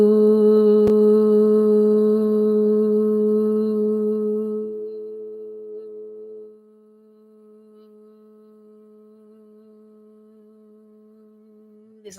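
A group tones a long sustained "ooh" vowel on the exhale, steady held voices that thin out partway through and fade to a quieter lingering tone.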